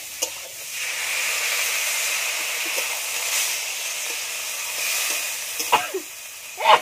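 Steady hiss and sizzle from a hot pan of pui mituli curry with prawns after water is poured in, continuous and close, with a few light stirring clinks near the end.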